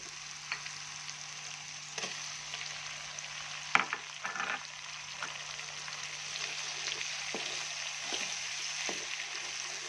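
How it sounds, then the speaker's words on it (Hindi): Tomatoes fry in spiced masala for aloo gobi, giving a steady soft sizzle throughout, broken by occasional light spoon taps and scrapes against the pan and one sharper clink near the middle. "मज़ीद इसको अच्छी तरह भूनें ताकि टमाटर भी सही तरह गल जाए।"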